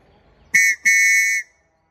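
A cheap plastic survival whistle bought on Temu, blown in two shrill, steady blasts, a short one then a longer one, loud and close with no talk over it.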